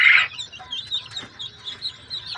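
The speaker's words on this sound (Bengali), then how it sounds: "দেখতেছেন আমার এখানে অরিজিনাল কলম্বিয়ান ব্রাহ্মা মুরগির বাচ্চা।" Colombian Brahma chicken chicks peep and cluck in a steady run of short, high, repeated chirps, close and fairly clear, with no talking.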